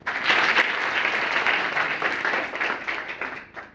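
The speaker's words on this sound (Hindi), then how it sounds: "ताली बजाइए एक बार।" Students in a village school classroom break into a burst of sustained clapping, dense and steady throughout before easing slightly near the end.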